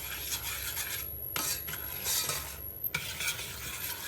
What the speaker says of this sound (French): On remue bien pour pas que le sucre caramélise.